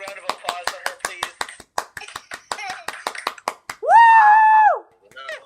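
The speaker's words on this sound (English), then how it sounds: "Can we get a big round of applause for her," A small crowd gives a round of applause at a boxing interview event with sharp, scattered claps, followed by a loud, sustained cheer from one voice.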